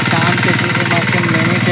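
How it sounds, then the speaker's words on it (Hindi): A mini tractor engine running steadily nearby, a loud, even mechanical thrum with a fast pulsing rhythm that does not let up. "tractor mini"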